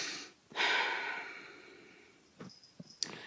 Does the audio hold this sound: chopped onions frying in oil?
no